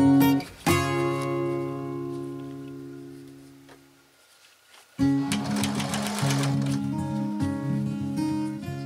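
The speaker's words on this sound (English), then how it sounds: "I added a second row of eyelet, and I am sewing on some satin ribbon at the same time." A sewing machine stitches eyelet trim and satin ribbon together in quick bursts of close, rhythmic whirring, stopping briefly in the middle before running again.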